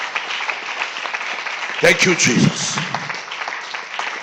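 A church congregation applauds in a continuous clatter of clapping, while a voice calls out in praise partway through, over the steady hand noise.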